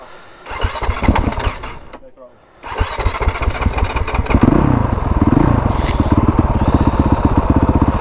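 A Honda CRF 450 dirt bike engine starts up loud and close, catches after a brief pause, then settles into a steady, throbbing idle with rapid firing pulses and a slight rev, while people talk nearby.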